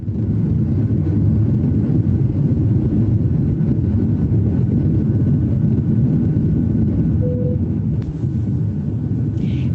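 A passenger airplane in flight, heading to Oakland, fills the cabin with a steady, loud low-frequency engine and air roar that holds constant throughout, with no talking.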